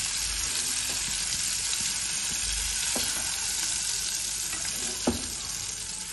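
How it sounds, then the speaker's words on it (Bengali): Prawns sizzle steadily while frying in hot oil in a pan, a continuous close crackle with a couple of faint clinks near the end. "চিংড়ি মাছগুলো ভাজা হয়ে গেছে"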